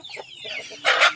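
A native-breed hen in a backyard flock where some chickens are sick gives a few soft, close clucks, ending in a brief louder burst, with no voices.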